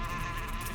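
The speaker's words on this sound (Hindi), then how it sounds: "मधुमक्खी के छत्ते को छेड़ना" Honeybees swarming around a disturbed beehive make a close, steady, droning buzz, heard alone in a short, continuous burst under a second long.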